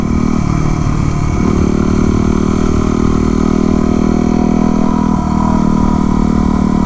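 A Yamaha WR250R single-cylinder supermoto engine drones loud and close while riding twisty roads, its pitch holding steady and then shifting as the rider changes throttle, with wind noise underneath.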